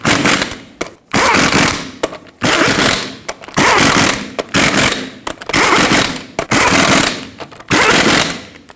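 Impact wrench driving lug nuts onto a Ford F-350 front wheel, loud rapid hammering bursts of about a second each, repeated seven or eight times with short pauses between, close and alone.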